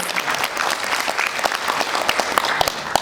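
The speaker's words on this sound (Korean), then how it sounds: "큰 박수로 맞아 주시면 감사하겠습니다." Audience applause at a Korean consumer-rights forum and rally on class action legislation, steady dense clapping with sharp individual claps throughout, moderately loud and without speech.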